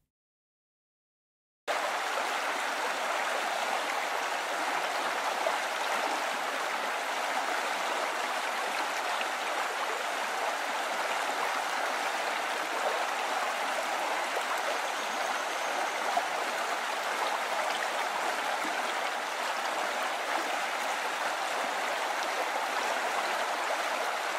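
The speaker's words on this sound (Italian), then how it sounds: "È l'audio di un fiume in formato 5 più 1." A river flows steadily, recorded in 5.1 surround: after a brief silence, a constant broadband rush of water runs on evenly with no voices.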